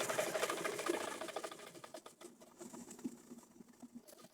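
Sewing machine stitching a pants hem, a steady rapid rattling patter that is fairly faint and continuous, with light tapping variations toward the end.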